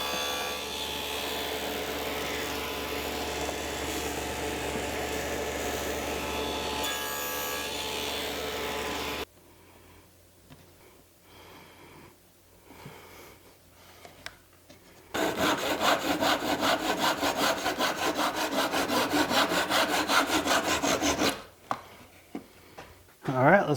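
Wooden box corners cut at 45 degrees on a sled by a shop saw, with a long steady loud cutting run early, a quieter gap of scattered handling noises, then another sustained loud cut before it winds down.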